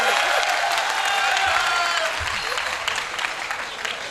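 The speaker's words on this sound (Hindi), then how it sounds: "तालियां बजा दो ढंग से, मस्त।" Loud, dense audience applause at a live Hindi comedy show, steady and continuous throughout with a crowd roar underneath, fading slightly toward the end.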